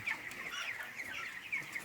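Broiler chickens, 23 days old, in a poultry house, a dense flock's overlapping soft clucks and chirpy peeps, steady and moderately close with no talking.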